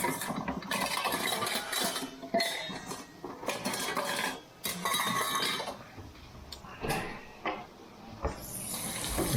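Titanium camping pot and lid handled in a kitchen, with clanks, metallic clinks and scraping knocks at irregular intervals, close by, over a faint background of running water or sink noise.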